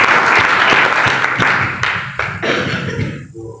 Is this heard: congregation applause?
yes